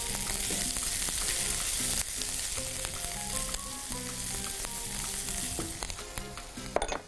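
Chicken with caramelized onions and green onion is sautéed in a pan, giving a steady close sizzle with spatula stirring scrapes and a few sharp clatters near the end.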